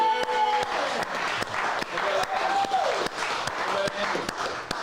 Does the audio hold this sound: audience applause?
yes